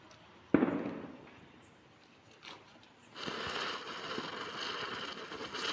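A single sharp Diwali firecracker bang goes off, followed by quieter rumbling and then a steady, fizzing crackle that continues to the end.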